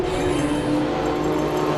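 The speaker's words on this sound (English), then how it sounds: "that's a loud car" A race car at the Simola Hillclimb roars past loud and close, a sustained engine drone with no break over a short stretch.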